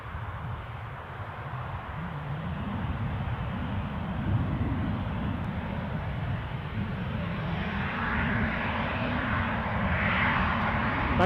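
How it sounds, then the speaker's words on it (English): A Loganair aircraft passes overhead near Newcastle airport as a steady, broad engine roar that swells slightly toward the end, with no talk. "Oh, the Loganair's overhead, roger that."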